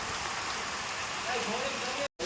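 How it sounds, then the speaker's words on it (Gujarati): Steady rain roars as a broadband hiss with gusty wind, a voice talking faintly underneath, then a brief dropout near the end. "વરસાદ સાથે પવન પણ નીકળો છે જોરદાર"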